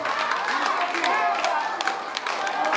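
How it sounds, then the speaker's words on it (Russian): Applause at a jubilee celebration with Gypsy dancing: a dense, steady wash of crowd clapping that stays loud and even throughout, with murmuring voices mixed in. "Особые аплодисменты, конечно же, звучат в адрес Федора Владимировича"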